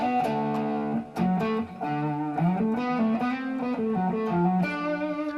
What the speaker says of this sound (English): something that's got some breakup, that's just kind of warm and bluesy